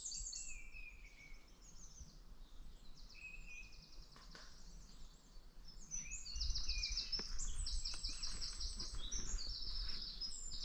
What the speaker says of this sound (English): And birdsong, I might add.